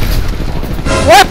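A bomb goes off in the Apex Legends video game, a loud, deep booming blast that fills the whole brief moment, with a short rising tone at the very end.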